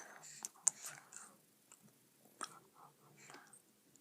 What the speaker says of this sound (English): just chew it